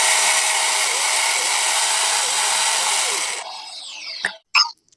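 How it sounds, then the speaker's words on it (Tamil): A mixer grinder whirs loudly and steadily while grinding masala finely for a spicy mutton gravy, then cuts off near the end, followed by a couple of brief knocks or clatters as it stops. "நல்லா நைஸாக அரைச்சி எடுத்துக்கோங்க"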